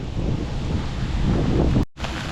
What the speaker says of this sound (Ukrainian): Град пішов